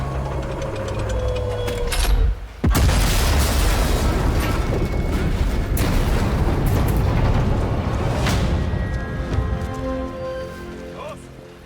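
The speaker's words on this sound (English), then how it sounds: "The gun will blow when it's fired." An artillery gun aboard a ship blows apart in the Sniper Elite 5 video game, a sudden loud boom that turns into a long roaring, crackling rumble of fire and debris under a steady wash of game sound, with a voice briefly heard.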